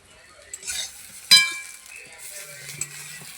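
Spiced eggplant slices sizzle softly in a pan while a utensil turns them, with one sharp metallic clink near the middle and a few lighter scrapes and stirring sounds around it.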